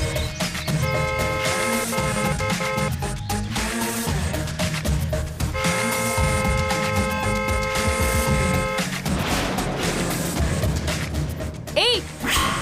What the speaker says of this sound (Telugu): బుద్ధుందా నీకు? ఎందుకలా హారన్ కొడుతున్నావు?